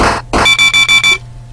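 Digital wristwatch in the Space Quest video game sounding a loud run of four or five rapid electronic beeps, right after two brief bursts of noise.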